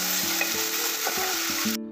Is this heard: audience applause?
no